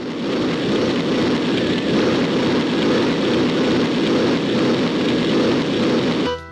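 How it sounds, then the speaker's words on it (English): A dragon firing a barrage of fireballs in the platform game Miner Ultra Adventures, a loud continuous roaring rush like dense rain or jet noise that holds steady, then cuts off abruptly. "You can hear the dragon firing off a ton of fireballs trying to land a hit on me"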